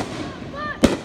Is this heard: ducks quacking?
no